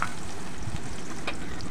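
Chopped onions sizzle in hot oil in a pan over a clay stove, a steady crackling fry running close and constant throughout.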